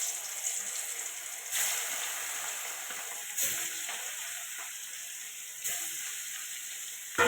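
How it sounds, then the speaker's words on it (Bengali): Fish sizzles in heated oil with a steady bright hiss, broken by a few short louder bursts of spitting, close up with no voices. "তেলটা গরম হয়ে গেছে, মাছগুলো দিয়ে দেবো।"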